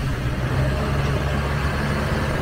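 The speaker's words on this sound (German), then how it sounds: "Traktor!" Tractor engine near a waterway at a Bangkok floating market, a steady low diesel rumble heard from a passing boat, moderately loud and continuous with no talk.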